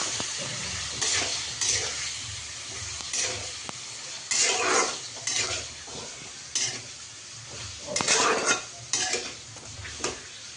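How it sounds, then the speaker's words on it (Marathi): Marinated chicken fries in oil in a pan, with a steady low sizzle under repeated clanks and scrapes of a spoon stirring against the pan. No one talks. "आपण छानपैकी तेलात फ्राय करून घेऊ।"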